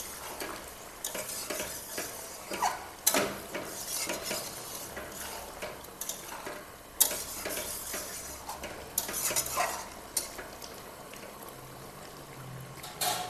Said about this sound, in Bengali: এখন একটু নেড়ে নিচ্ছি।